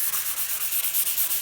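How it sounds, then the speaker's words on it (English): Light hand sanding of a guitar's wood body with 220 grit sandpaper, a close, soft rhythmic rasp of quick back-and-forth strokes. "I'm just doing some light sanding with 220 grit."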